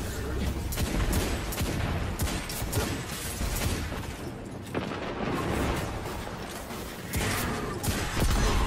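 Dense, sustained gunfire from the Destiny 2 video game, a near-continuous fusillade of loud overlapping shots with booming impacts that continues throughout, with no clear speech over it.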